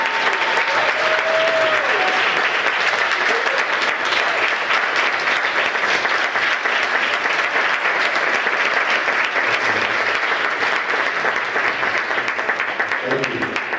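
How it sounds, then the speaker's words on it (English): Sustained applause and cheering from a crowd at an intergenerational dialogue event, honoring students, steady dense clapping filling the whole stretch with a brief voice at the start. "Let's give these students a round of applause"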